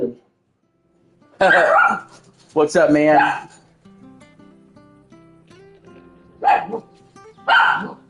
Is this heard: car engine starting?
no